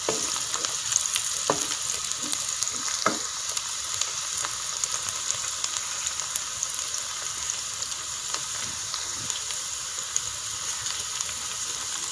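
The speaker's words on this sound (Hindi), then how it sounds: "इसको हिलाते रहें ताकि प्याज जल ना जाए।" Onions fry in a pan with a steady, bright sizzle while being stirred, with occasional soft scrapes and clicks of the spoon against the pan. No one speaks.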